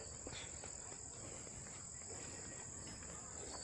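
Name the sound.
crickets chirping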